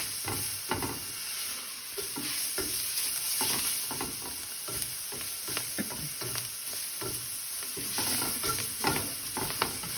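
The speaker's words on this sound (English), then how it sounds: "Cook those onions really good." Onions fry in a pan with steady broadband sizzling, broken by repeated scraping stirs from a spatula at irregular intervals, close and fairly loud with no voices.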